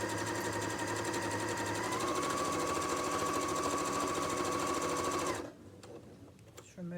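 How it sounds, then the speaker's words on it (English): Sewing machine stitching an apron hem in a steady, continuous mechanical whir at close range, running loud and even for about five seconds before stopping abruptly, leaving quieter room sound. "So I sew forwards, I do a wee back stitch, and then I sew down"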